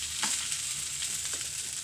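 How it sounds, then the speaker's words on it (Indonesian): Fried rice, or sego goreng, sizzles steadily in a pan with a constant bright frying hiss and a few faint stirring scrapes, close and alone with no voices. "Apa iku sego goreng?"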